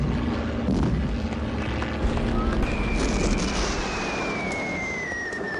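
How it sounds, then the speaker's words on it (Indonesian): Enemy warplanes approach overhead as a broad, loud rumbling roar with wind-like noise, swelling slightly and holding steady throughout, with a thin high whine sliding across the sound midway. "Pesawat musuh datang mengangkang."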